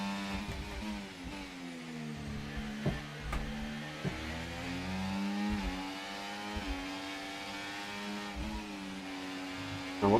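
Race cars in a racing video game practice lobby, a steady nearby engine drone with harmonic whine rising and falling in pitch, plus a few small knocks, running continuously without talk.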